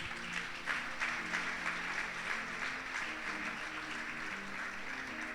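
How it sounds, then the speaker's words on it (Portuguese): A church congregation applauding during a service, faint, even and continuous clapping throughout with a slight crowd murmur. "igreja, aplauda o Senhor"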